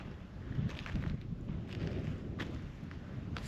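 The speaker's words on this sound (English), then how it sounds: "And just a little bit of wind." Light wind at night near the Guerrero Negro lighthouse in Baja California rumbles steadily across the microphone, a soft continuous low buffeting with faint airy hiss and no voices.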